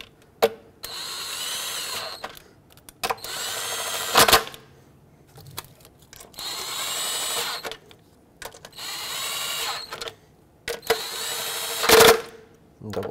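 A power driver snugs throttle body bolts on a Ford Flex engine in several short bursts separated by pauses, loud and close, with a few clicks between runs.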